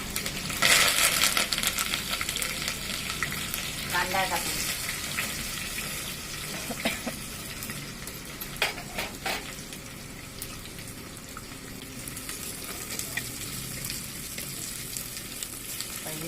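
Coconut, chilli and curry leaves fry in a clay pot with a steady, loud sizzle, broken by scraping stirs and short crackles throughout.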